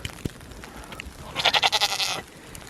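Goats out in a blizzard give a loud, nearby run of wavering bleats lasting under a second, with wind and faint background noise around them.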